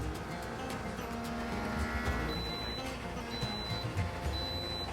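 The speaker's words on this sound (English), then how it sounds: "Now we hit this, this is going to start the vacuum." A vacuum pump runs on a jerky marinating drum with a steady, even mechanical drone. High electronic beeps sound a few times partway through.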